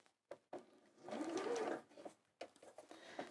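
Sewing machine stitching a pocket seam, running in a steady whirring burst for about a second before stopping, with short bursts of stitching on either side, close and clear.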